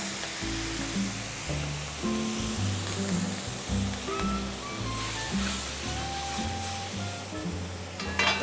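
Soy sauce goes into a pot of braising tofu skin, bringing a steady close sizzle and light stirring over soft background tones.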